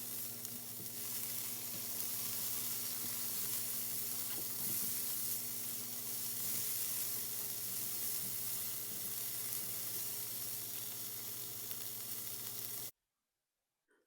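Onions sauté with ground clove and black pepper in a hot pan, giving a steady, close sizzle and hiss with faint stirring scrapes that runs unbroken for most of the clip before stopping abruptly.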